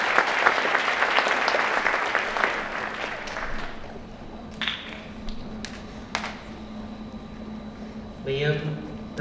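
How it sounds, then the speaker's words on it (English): Applause for students at a middle school academic awards ceremony swells loudly for a few seconds and then fades to scattered claps and room noise, with a voice speaking near the end. "After each name, you may applaud for these individuals."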